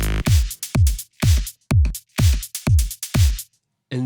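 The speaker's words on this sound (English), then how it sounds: "just the drums that sound like this." Self-made electronic drum samples play as a sequence of seven punchy hits, each a booming low kick with a bright transient attack, spaced at an even rhythm and then stopping, with one faint tick at the very end.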